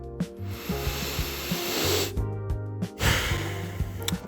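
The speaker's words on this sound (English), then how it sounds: "Some sniffing ASMR for you." Several sharp nasal sniffs of men's eau de parfum, close and breathy, over a steady low musical background.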